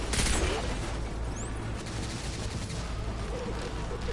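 Rapid, dense gunfire in Destiny 2 with a louder burst at the start, then continuous shots and explosive cracks, with a voice talking intermittently over it.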